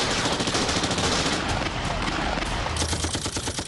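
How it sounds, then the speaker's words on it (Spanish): Dense, continuous gunfire from automatic weapons and single shots during an armed assault on a residence, loud and close, with rapid overlapping bursts and no pauses. "Había tiros tanto fuera de la residencia como dentro"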